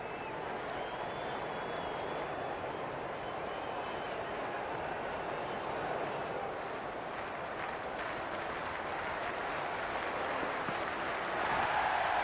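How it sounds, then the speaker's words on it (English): Large cricket crowd at an India vs Afghanistan ODI roaring in a broad, steady wash of cheering and noise, swelling slightly at the end, with commentary voices faintly underneath. "It's evident and ever so audible that the crowd is at near bursting point at today's play."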